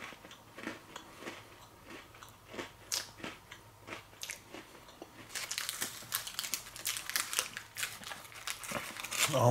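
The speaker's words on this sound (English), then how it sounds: "let's try this hot chocolate type cookie here." Crunchy bites and chewing of a hot chocolate style cookie with chocolate cream filling, recorded close up, starting with a few distinct crisp bites and building into dense crinkly chewing noise.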